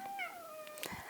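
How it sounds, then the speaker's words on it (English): A pet cat gives a single close meow that slides downward in pitch, followed by a brief scuffing rustle near the end. "That is my cat."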